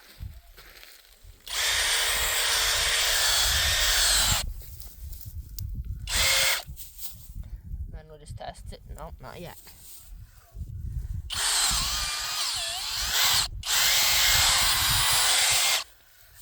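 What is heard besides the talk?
power drill boring into dirt to find gopher hole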